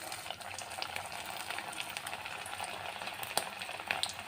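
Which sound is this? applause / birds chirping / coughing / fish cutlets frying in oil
fish cutlets frying in oil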